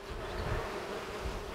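Buckfast bees buzz in a steady, close drone around a hive where a queen is walking on the comb, with a faint low rumble underneath and no talking.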